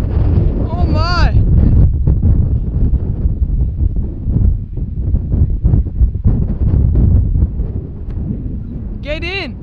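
Strong wind buffets an outdoor microphone with loud, low, gusty rumbling that pulses throughout, with brief high squeaky chirps near the start and end.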